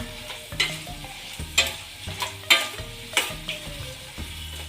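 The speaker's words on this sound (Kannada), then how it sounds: "ಎಳ್ಳು ಫ್ರೈ ಆಗೋಗುತ್ತೆ" Sesame seeds fry in oil with a soft sizzle under repeated scraping and stirring strokes, each stroke bringing a brief louder clatter. The sound is close and there are no voices.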